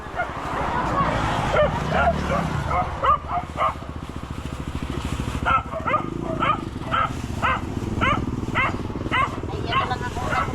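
A dog barks repeatedly in short, sharp bursts, fairly close, while people talk and an engine hums underneath.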